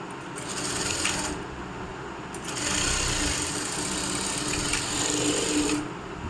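A sewing machine stitches a blouse in two steady running bursts, a continuous close whirring hum that pauses briefly in between, with no talking.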